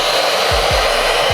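Heat gun blowing steadily and loudly up close while warming pinstripes on a Corvette Z06 front grill, a constant airy roar with a low motor hum beneath, no voices.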